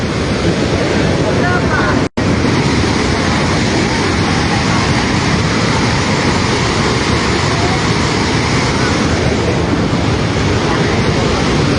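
Roaring volcanic lahar mudflood from Semeru surging down the Regoyo river in East Java, a loud, steady broadband rush with wind buffeting the microphone and one brief dropout near the start.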